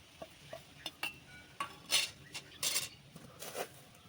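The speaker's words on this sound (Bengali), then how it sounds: "আমি সয়াবিন ডাল খুব ভালো করে মেখে নেব" Soybean dal paste is mixed with spices by hand in a bowl, giving quiet, scattered squelching and tapping sounds in irregular bursts, close and faint, with no talk.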